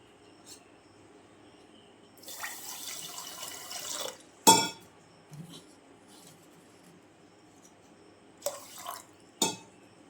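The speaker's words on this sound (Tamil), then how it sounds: "அப்படியே தண்ணி ஊற்றி ஃபுல்லாக ஊறட்டும்" Water pours briefly into a container of cotton seeds to soak them, followed by a few sharp clinks of glass or metal and faint trickles in a quiet room.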